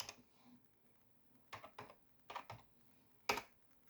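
Bursts of computer keyboard typing, quick clusters of keystrokes separated by short pauses, close and fairly quiet with no voices.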